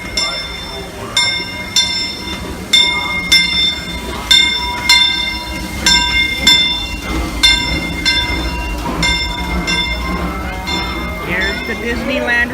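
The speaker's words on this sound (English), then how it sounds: "Here's the Disneyland Railroad." Disneyland Railroad train at Main Street USA Station, with a steady low rumble and repeated bright, ringing metallic clanks from the wheels and track. The clanks come in a loose rhythm, fairly near, with some background activity around the station.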